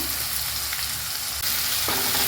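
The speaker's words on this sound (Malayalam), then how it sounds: "ഒരു മീഡിയം ഫ്ലെയിമിൽ വെക്കണം കേട്ടോ എല്ലാ സമയത്തും ഒന്ന് വഴന്ന് വരട്ടെ" Onions and tomatoes with turmeric sauté in a pan over a medium flame, producing a continuous, close sizzle of hot oil that grows slightly louder toward the end, with no speech.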